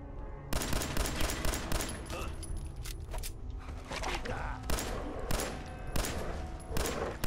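Gunfire in Fallout 4, with rapid bursts of automatic fire and scattered single shots cracking in clusters throughout, fairly faint overall, while a voice talks over the shooting.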